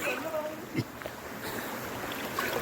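Steady broadband rush of water at Thusharagiri waterfall in Kozhikode, a continuous outdoor roar with small splashes, as a person speaks over it.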